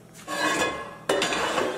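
A cooking pot handled on a stovetop, with two close metallic clanks and scraping rattles, each trailing into a short ring, loud and without voices.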